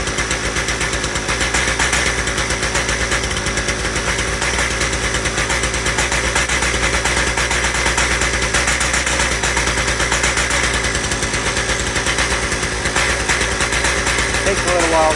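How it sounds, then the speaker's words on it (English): A two-stroke engine idles as it warms up in cold weather, a steady close mechanical drone with a fast, even putter that runs without a break through the whole stretch. "So I like two-stroke engines because they're really good running in the cold weather."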